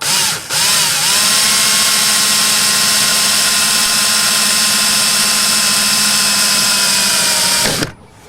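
A power drill runs steadily for several seconds, boring a smaller-bit hole into a Honda CR-V door panel, loud and close, with a brief dip near the start and the motor winding down abruptly at the end.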